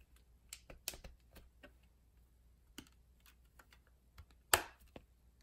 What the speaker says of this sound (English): There was a click right there